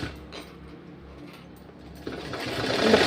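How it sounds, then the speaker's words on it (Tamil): A sewing machine stitches a band onto a blouse, its motor running as a soft, steady close-up whir that grows louder and busier toward the end. "இதையும் தைச்சிட்டு படிமான தையல் போட்டுக்கிறேன்."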